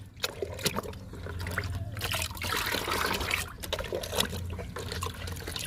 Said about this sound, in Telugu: ఆ వాటర్ బదులు ఈ కిచెన్ వేస్ట్ లిక్విడ్ ఇచ్చేద్దాము